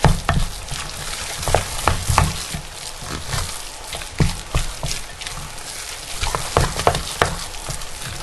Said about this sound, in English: Give that a good stir. And get everything incorporated.